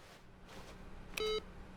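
One short electronic beep sounds in The Stanley Parable video game, a brief clear tone lasting about a quarter second, standing out against otherwise quiet background.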